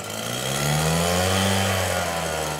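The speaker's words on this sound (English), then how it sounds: "he relies on gas-powered leaf blowers for big and small jobs in Birmingham" A gas-powered leaf blower used by a Birmingham landscaping company runs steadily and loud close by, its engine droning with a constant whine for the whole stretch.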